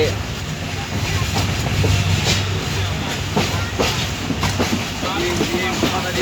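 Passenger train heard from inside a carriage between Sreemangal and Dhaka, with a steady rumbling roar, rhythmic clicking of the wheels on the rails, and faint voices in the background.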